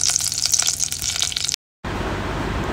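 Wagyu beef burger patties fry in a pan with a loud, close, steady sizzle that breaks off abruptly into a moment of silence, then resumes as an even hiss.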